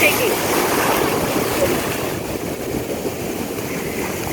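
Waves wash in and out on a Florida beach, a broad steady hiss of surf close by that eases slightly toward the end, with no voices standing out.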